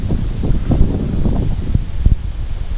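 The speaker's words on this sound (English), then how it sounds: "Oh, the wind's getting up. I know they can hear it. It's really getting up now." Gusty wind buffeting the microphone on a Yorkshire riverbank beside the Wharfe, a close, rough rumble with irregular bursts and no voices.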